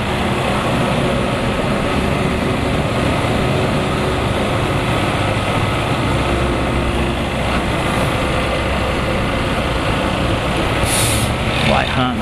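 Heavy truck rumbling past on a city street in a Brazilian neighborhood, with a broad steady engine roar and a brief hiss of air brakes near the end, heard from a passing motorcycle.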